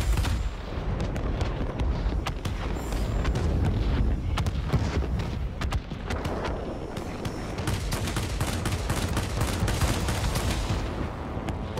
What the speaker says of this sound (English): 30 millimeter cannons really do a good job.